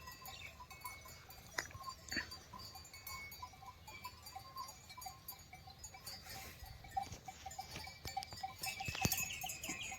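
A herd of goats is driven up into the hills on a farm, with scattered faint bleats, shuffling hooves and a light bell over a steady outdoor background.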